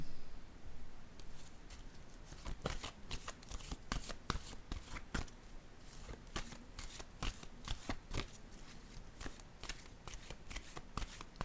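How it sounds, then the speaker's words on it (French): Playing cards being shuffled and handled on a table, a long run of rapid, crisp riffling clicks and flutters, fairly close and steady throughout, with no talking. "je vais déposer une carte ici"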